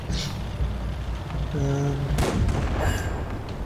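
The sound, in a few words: tank cannon fire destroying a tank in World of Tanks video game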